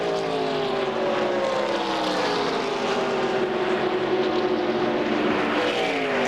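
ARCA Re/MAX Series stock cars circle the track under a 2001 caution, a steady loud engine drone with overlapping pitches sliding up and down as the field rolls by, no talking.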